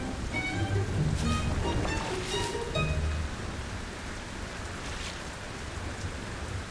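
Steady rain pours down in a city, a dense close hiss across the whole stretch, with croaking bullfrog calls layered over it during the first half.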